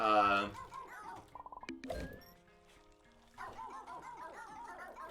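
A dog barks in the video game PHOGS, with a few quick cartoonish barks and yips among game sound effects while a person talks over the gameplay.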